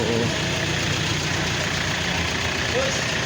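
A truck engine idles in Malalag, Davao del Sur, with a steady, rough mechanical rumble up close, continuous throughout, with faint voices underneath.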